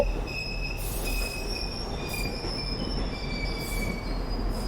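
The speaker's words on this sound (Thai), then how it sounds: "เสียงรถไฟ" A train in the video game The Ghost Train arriving, its wheels squealing in high sustained tones over a continuous low rumble of rolling railcars, steady and fairly close.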